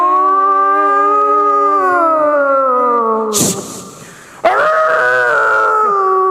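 A dog howls loudly and close by in long, wavering tones. The howl breaks off briefly with a noisy burst, then resumes and carries on to the end.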